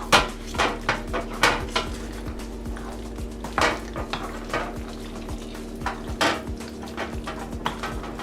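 Butter is stirred into cooked pasta in a pot, with irregular close clinks and knocks of a utensil against the pot over soft sticky stirring.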